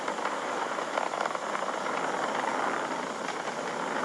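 Falcon 9 rocket engines roaring during the Crew Demo 2 launch, heard as a steady, broad, hissing rumble at a fairly low level, smooth and unbroken throughout with no voices.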